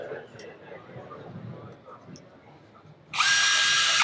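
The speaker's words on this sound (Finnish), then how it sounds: "Tällä menetelmällä ainoastaan tehdään maahan reikä" A power drill bores a hole into the ground, starting suddenly with a loud, steady high-pitched whir after a stretch of quiet talking, and running without pause.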